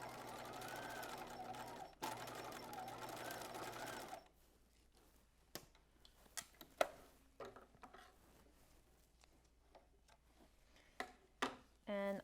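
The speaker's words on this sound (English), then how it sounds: "Okay, so this end we're just stitching at 5/8 of an inch along the short end." Domestic sewing machine stitching a circle skirt seam along a short end, a steady close run of about four seconds, then quiet handling clicks and taps.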